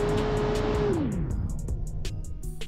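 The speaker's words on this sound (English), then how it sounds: "Flat plane V8, tiny capacity," A high-revving, small-capacity flat-plane V8 car engine in a video game roars steadily, then its pitch drops as it winds down, with faint ticks and clicks over the fading rumble.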